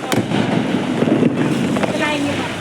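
Firecrackers set off by children at a home celebration crackle and pop in several sharp bursts over a steady wash of background noise, with voices nearby.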